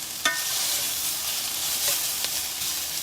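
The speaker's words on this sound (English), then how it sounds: "isn't it an amazing sizzle?" Fajita meat fries in a pan with a steady, close hissing sizzle, broken by a couple of sharp clicks from stirring.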